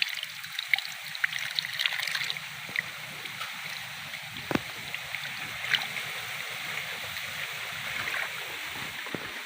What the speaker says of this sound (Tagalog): tuloy-tuloy lang yung pag-agos ng fresh water